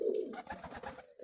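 Pigeons cooing in a loft: a short, close, soft throaty coo lasting about a second, with a fainter murmur at the end.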